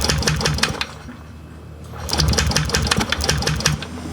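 A motorcycle engine, its wiring just repaired, started with the push button and running, giving a rapid, even ticking pulse that thins briefly and then picks back up strongly, close by.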